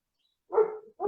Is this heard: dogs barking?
yes